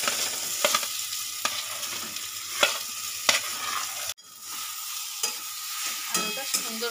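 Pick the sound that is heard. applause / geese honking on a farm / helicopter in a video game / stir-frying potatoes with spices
stir-frying potatoes with spices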